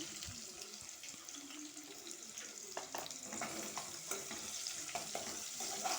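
Sliced onions with salt fry in a pan, giving a faint, steady sizzle with soft scraping as they are stirred, growing slightly louder toward the end.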